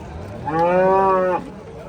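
A red cow lets out a single loud, drawn-out moo close by at the Pollachi cattle market, against a faint outdoor background.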